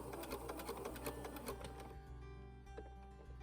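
A sewing machine stitches a romper seam, running a rapid even needle rhythm, then pausing into a quieter hum and a couple of soft clicks as it back stitches.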